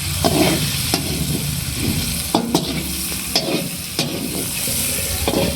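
Cauliflower and potatoes sizzle steadily in a hot pan while a utensil scrapes and stirs them in irregular strokes, close and clear with no talking.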